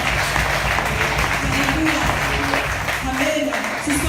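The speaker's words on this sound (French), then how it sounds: "nous acclamons bien fort le Seigneur" Loud, continuous applause from a church congregation during a French-language worship service, filling the room with dense clapping while voices rise over it.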